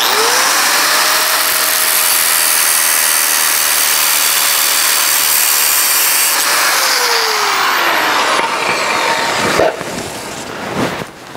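A power saw cuts through the metal fascia of a 1970 El Camino. A loud, steady grinding whine holds for several seconds, then drops off and ends in scattered scrapes and clunks.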